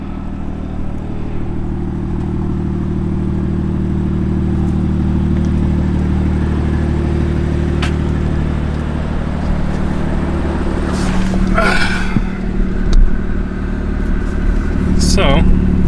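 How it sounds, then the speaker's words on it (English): A BMW M2 idles right after a cold startup, its steady low mechanical hum running close and continuous, with a couple of brief clattering bursts near the end. "Cold startup sound."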